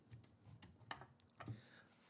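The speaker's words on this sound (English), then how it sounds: "I'm going to type a title" A manual typewriter clacks out a few sparse keystrokes, quiet and close, with uneven gaps between strikes and a heavier thump near the end.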